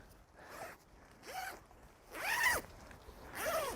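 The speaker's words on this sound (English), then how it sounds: "zip this up and keep the bugs out" A tent zipper is pulled closed at a motorcycle campsite in Arizona, four rasping zips in a row, each a short close scratchy sweep, the later ones louder and longer.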